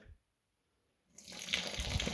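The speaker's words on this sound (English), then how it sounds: "pour the rest of the tap water in, hot water in" Hot tap water gushes into a vessel for a second batch of Geordie lager, a loud, steady splashing pour that starts abruptly after a second of near silence and runs on without a break.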